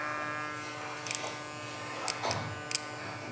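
A Stylecraft Instinct X cordless hair clipper running close by, a quiet steady electric hum with a few faint clicks and handling taps over the top.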